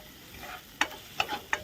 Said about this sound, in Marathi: आता हे चांगलं मिक्स करणार आहे